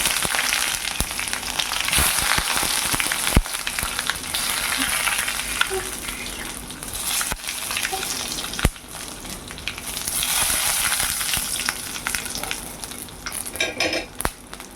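Dried red chillies, torn by hand, sizzle steadily as they fry in a pan of oil, a continuous close crackle with a few sharp clinks of a utensil and no talking.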